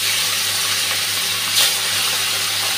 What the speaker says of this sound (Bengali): এখন ভেজে নিচ্ছি।